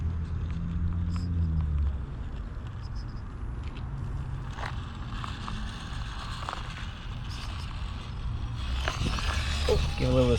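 An FMS FCX18 LC80 brushless RC trail truck drives over rough ground outdoors, giving a steady low rumble with faint motor whine and scattered crunching, louder toward the end.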